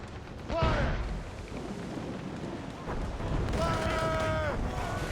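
Ship cannons fire in the naval combat of Assassin's Creed Rogue, a deep boom near the start and a rumbling volley later, with shouted orders and game voices over the blasts.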